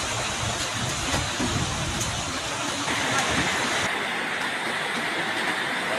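Floodwater rushes past on a road in front of a house like a river, making a loud, steady, broadband roar throughout.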